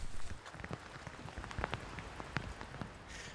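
Heavy rain pours down on Scotland's Black Isle along the North Coast 500 route, a dense, steady hiss with scattered sharper drips and spatters throughout, and no voices.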